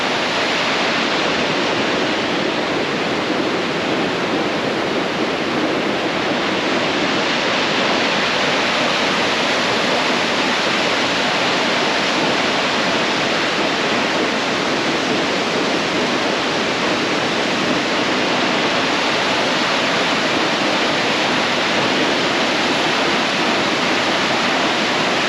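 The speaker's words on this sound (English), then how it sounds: "So yeah, here we are at the waterfalls." A waterfall on a hike near the Walensee roars close by, a dense, unbroken rush of falling water that stays loud and steady throughout with no voices.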